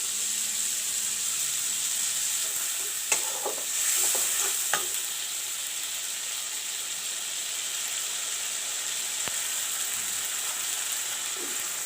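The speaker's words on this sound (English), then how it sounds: "This is onion and garlic paste which I am going to put now." Onion and garlic paste hits a hot pan for a brinjal and potato curry, giving a steady loud sizzling hiss throughout with a few brief scrapes and taps early on.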